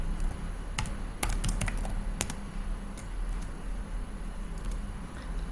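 Rapid typing of program code on a computer keyboard, a steady stream of close, crisp key clicks with a few louder strikes, heard on its own without talk.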